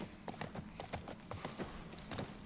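Horse hooves clip-clopping at a steady walking rhythm in The Last of Us Part 1, a string of close, evenly spaced clops with faint voices in the background.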